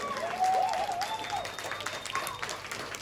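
Concert audience applause for a piano player at a live rock show in St. Petersburg, a dense, even wash of clapping heard from across the hall, with a sustained synth tone and stray crowd noise ringing over it.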